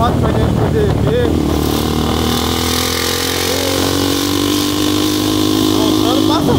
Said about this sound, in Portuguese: Passando uma moto pra gente poder ver.